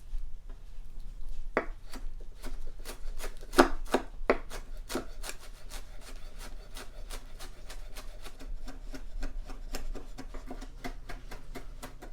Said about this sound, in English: I'm chopping the cooked bacon.